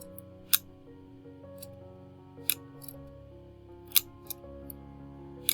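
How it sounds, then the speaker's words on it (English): The shutter mechanism of a camera made after 1913, from the World War One era, snaps in a few sharp, quiet mechanical clicks spaced a second or more apart over a faint low hum. "We have our shutter mechanism inside here,"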